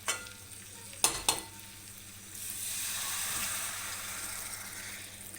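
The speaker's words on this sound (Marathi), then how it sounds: "थोडंसं ह्यात पाणी टाकायचं आहे आपल्याला." Water is added to fish masala sizzling in a pan, first a few sharp clanks of utensils, then a loud rising hiss and bubbling sizzle that holds steady to the end.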